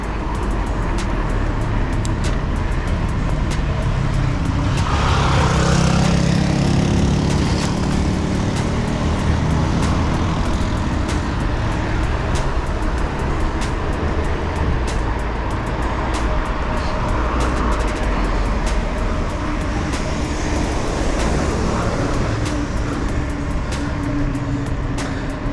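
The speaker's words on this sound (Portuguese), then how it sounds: "Agora já é um horário que começa a ter o fluxo de carros." Car traffic flowing along a road as heard while cycling, a continuous loud roadway rumble with vehicles swelling past at intervals and wind rushing over the microphone, with no talk.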